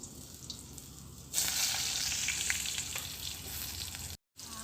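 Loud sizzling erupts as potatoes drop into hot oil in a pan, a steady crackling fry continuing close by, with a brief silent break near the end.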